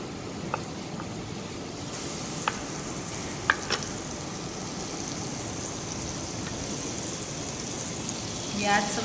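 Butter and garlic sizzle steadily in a pan as the base of a cream sauce for mushroom ravioli, a close, continuous frying hiss with a few faint clicks and taps over it.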